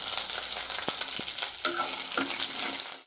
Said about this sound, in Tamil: 1 வெங்காயம் எடுத்து வச்சுருக்கேங்க, நீட்டாக அரிஞ்சு வச்சுருக்கேன். 1 வெங்காயம் போட்டுக்கலாம்.